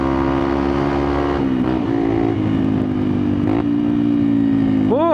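A Yamaha XTZ 125 motorcycle with an aftermarket exhaust roars steadily on a dune ride, the engine note dipping and climbing through gear changes, with a sharp rev at the end.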